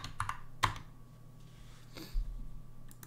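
A computer keyboard gives a few sparse, soft key clicks close by in a quiet room, with one sharper tap standing out among them.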